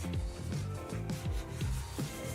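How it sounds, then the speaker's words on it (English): Sandpaper of a finer grit rubbed back and forth over a wooden table being given a distressed finish, a steady close scraping with regular strokes about every half second, alone with no talk. "Now I'm just going to go back over it with my finer grit."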